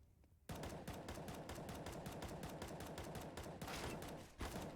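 Rapid automatic gunfire in a tactical shooter match on the Overpass map, a dense burst of fast shots lasting several seconds, loud and continuous after a brief quiet start.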